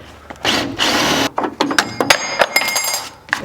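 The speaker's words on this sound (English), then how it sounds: "you can go ahead and drill these 2 rivets out" Power drill boring out two rivets on a Jeep XJ window channel, heard as several loud bursts of whirring grind broken by short pauses and scattered clicks and taps, close up with no talking.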